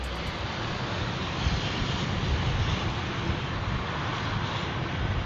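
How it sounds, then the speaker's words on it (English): A Boeing 787 doing a touch and go at Heathrow in a storm makes a loud, continuous roar of jet engines and rushing wind, broad and unbroken throughout, with no talking. "The 787 landing at Heathrow tried to land in a storm but had to do a touch and go after a"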